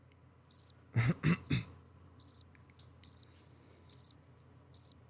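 Cricket chirps in short trilled bursts, repeating every second or so, over a low background hum; a couple of brief louder knocks break in early on.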